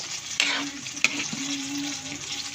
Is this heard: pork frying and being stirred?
yes